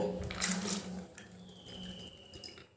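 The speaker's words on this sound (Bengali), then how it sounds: "এবার আমি একটা বাটিতে জল নেব খানিকটা, আর এই যে খানিকটা জল নিয়েছি।" Water poured into a bowl in a home kitchen, a brief close splashing pour at the start that tapers into softer trickles and faint clinks.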